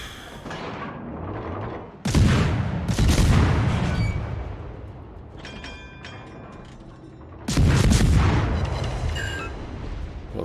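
Naval guns on a Minsk-class destroyer fire at a target in World of Warships, heavy booming salvos in two loud bursts around distant rumbling and mechanical clanks.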